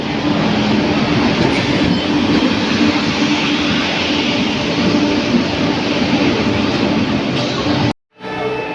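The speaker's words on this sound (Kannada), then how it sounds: "ಇದ ಟ್ರೈನ್ ನೋಡ್ರಿ ನಾವೀಗ ಹೋಗತ್ತಿರೋದು" A passenger train at Hubli station rumbles steadily and loudly with a constant rolling roar close by, then cuts off abruptly near the end.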